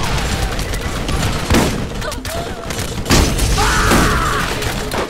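Borderlands game combat: a grenade blast and bursts of gunfire, with several loud thumping booms and crackling shots over a busy, cluttered background.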